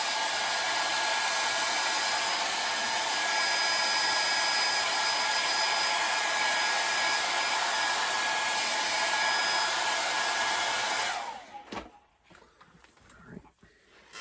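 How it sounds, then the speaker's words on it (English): A hair dryer blows steadily with a loud, constant whooshing hum for about eleven seconds, then cuts off, leaving quiet handling noises. "let's get a little hair dryer going on it."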